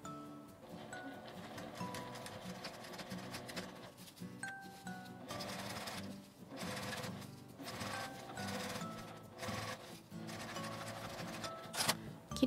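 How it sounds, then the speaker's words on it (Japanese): A sewing machine runs along the edge of the outer fabric of an insulated drawstring pouch, a steady continuous whirr with small dips, quiet and close, with no talking. "表布の端にぐるりと端ミシンをかけます。"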